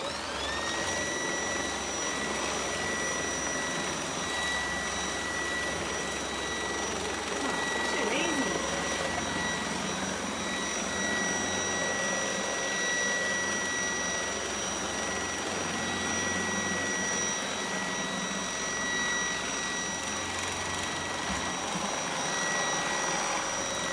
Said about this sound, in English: So I thought I would give my Kobold a go with the Vac and Mop Head